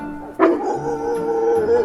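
A voice imitates a dog barking, giving a sudden loud yelping bark that stretches into a whining, howl-like sustained tone, close and alone without other speech.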